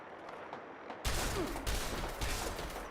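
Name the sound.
gunfire in Fallout 76 video game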